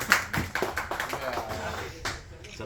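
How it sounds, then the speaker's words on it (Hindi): A few people in a room during a charger repair lesson clap their hands in scattered, uneven claps over a couple of seconds, close by, with voices talking around them. "अरे ताली बजा।"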